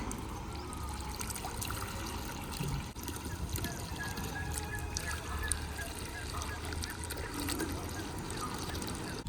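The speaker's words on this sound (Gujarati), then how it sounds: "આ મોટરથી ઉપર પાણી જશે" Water trickles and pours steadily in a continuous low rush as a motor pumps it through a hose up into a tank, with faint bird honks in the background.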